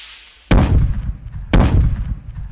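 Rocket weapon firing in a developer's Unreal Engine 5 shooter game: two loud, sharp blasts about a second apart, each trailing off in a long, rumbling decay, with no voices.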